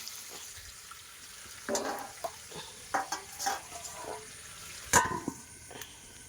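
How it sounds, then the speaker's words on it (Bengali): Potatoes tipped into a pan on a brick-built stove, with scattered clatters, scraping and splashy bursts over a faint background sizzle, fairly quiet and without talk. "আলুগুলো দিয়ে দিচ্ছি সব।"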